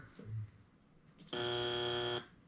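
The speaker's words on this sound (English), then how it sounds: "Buzzer." A game show wrong-answer buzzer sounds once on a radio broadcast, a loud harsh sustained tone lasting close to a second and then cutting off, following a brief low sound.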